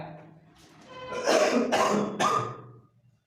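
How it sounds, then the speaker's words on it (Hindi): A person coughs several times in quick succession, close and fairly loud, with harsh raspy bursts and a bit of throat clearing. "ये बात सुनकर खांसी होने लगी"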